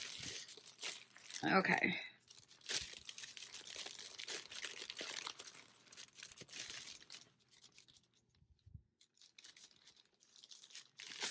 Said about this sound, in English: Should probably take them out the plastic so you can see better. It just makes such crinkling noises.